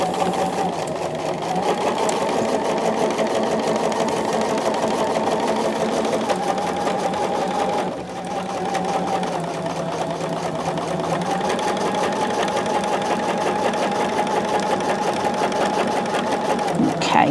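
A sewing machine stitches a pillowcase seam in a steady, continuous whir that runs loud and close throughout, with a brief dip partway through before the motor picks back up.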